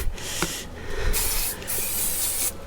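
Aerosol fabric spray for soft furnishings hisses in several bursts, close and steady, with brief pauses between the sprays.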